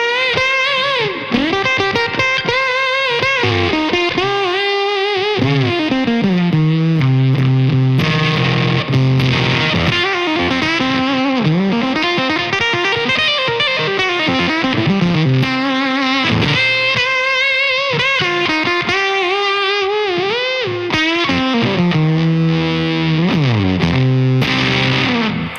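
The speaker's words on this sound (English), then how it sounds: "got your classic kind of fuzz sound there" Guitar played through a Coriolis Effects Face Deluxe fuzz pedal with its bias control turned fully up, giving a thick, saturated, overdriven tone that runs loud and continuous from start to finish with no one talking.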